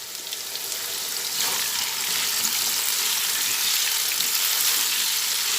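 Potato pieces tossed with turmeric and salt fry in a pan, producing a steady, close hiss of sizzling oil that swells slightly after the first second and then holds, with no talking.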